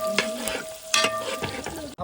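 Food frying in a pot at an outdoor field cookout, stirred in bursts that bring loud scraping sweeps and bubbling sizzle at close range, broken by a short gap near the end.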